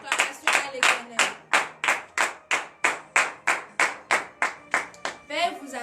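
A church congregation at a morning prayer service in Benin claps in a steady, even rhythm, about fourteen sharp, close claps in a row, with a few voices rising briefly at the end.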